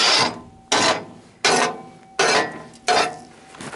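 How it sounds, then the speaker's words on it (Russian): Hand-sawing stretch ceiling material indoors, five separate rasping strokes in an even rhythm, each starting sharp and tailing off, close and loud with no talking. "Сейчас будем пилить."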